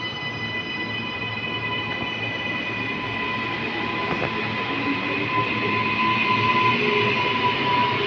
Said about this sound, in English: Brisbane City and Northgate service now departing platform 2 for an all stations service to Brisbane City and Northgate.